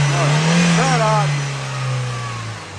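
A Chevrolet Onix engine with a strange knocking noise runs with a steady low hum and rises briefly as it is revved, while someone talks over it close by.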